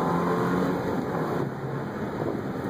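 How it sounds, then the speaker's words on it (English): A car engine revs and pulls as it accelerates around a curve, a steady close-up drone with road and wind noise inside the cabin. "So let me just kind of race around a curve here."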